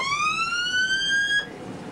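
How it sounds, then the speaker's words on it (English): A rising electronic whoop tone of a submarine collision alarm aboard the USS Norfolk (SSN 714) sounds once, loud and close, sweeping steadily upward for about a second and a half before cutting off. "Collision alarm, torpedo room."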